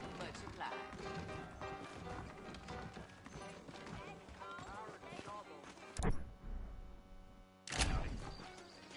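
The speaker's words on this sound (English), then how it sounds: "I got the horses saddled up and ready out front." Horses' hooves clip-clop in the Western video game Red Dead Redemption, a quick run of hoofbeats mixed under game music and a talking voice, with a couple of louder thumps near the end.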